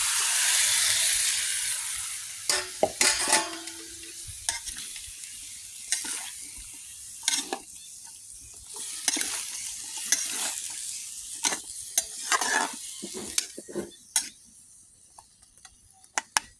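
Chili and cumin paste frying with fish curry in a village-style kitchen, a steady sizzle broken by sharp stirring scrapes and clatters of a spoon against the pan, close and fairly loud with no talking.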